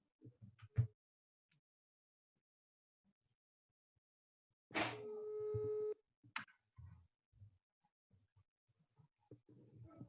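A telephone call is placed to a guest on a French radio show: after near silence, a single steady ringing tone sounds for about a second, followed by a short click and faint scattered voice sounds.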